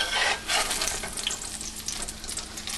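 Potato patties fry in a hot pan, crackling and spitting oil in a steady, close sizzle with a few louder pops at the start.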